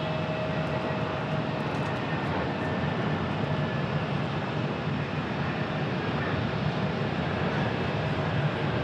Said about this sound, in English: This is an A321.